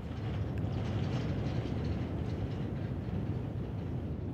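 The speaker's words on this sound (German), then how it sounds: "Sieben Kilometer lang ist die Strecke vom Moor bis zum Torfwerk. Der Zug braucht dafür eine knappe Stunde." Narrow-gauge moor railway train running along the seven-kilometre line from the bog to the peat works, a steady continuous rumble of wheels and wagons, close and even throughout with no talk.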